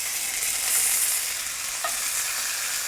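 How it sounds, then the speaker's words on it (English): Pork chops sizzle and fry loudly in a frying pan, a steady close crackle of hot fat with a small clink partway through and no voices. "I hold them down this way just to melt some of that fat and get a little bit of a crust on the outside of the pork chop too."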